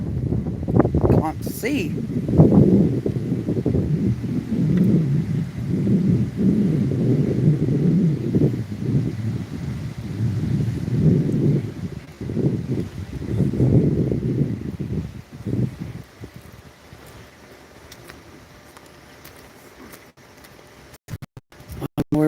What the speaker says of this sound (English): Oh, that wind is kicking.